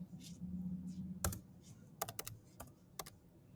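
Keys tapped on a computer keyboard while building an app interface in Xcode: a single sharp click, then a quick cluster of three or four strokes and a few scattered taps, faint and close with no speech.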